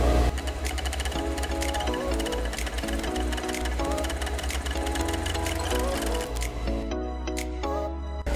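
A sewing machine topstitches the back piece of a men's boxer brief, running at a steady rapid mechanical rhythm, loud and close, slowing near the end.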